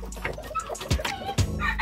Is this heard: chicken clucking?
yes